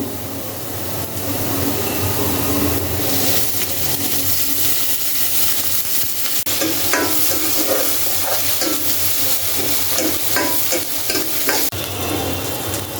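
Chili and onion fry in mustard oil, a loud, dense, steady sizzle with rhythmic stirring scrapes throughout.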